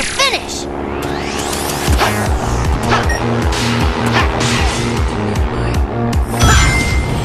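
A music track as heard in the Sonic Generations video game: a dense, loud, driving electronic arrangement with a steady pounding beat, bright synth lines and crashing cymbal hits, playing continuously with no talk.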